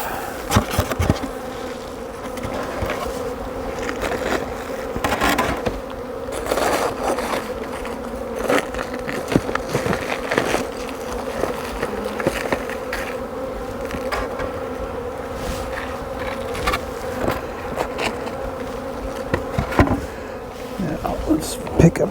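Honey bees swarm and buzz steadily around a beehive outdoors, a dense continuous drone with scattered clicks and handling knocks, with occasional quiet talk.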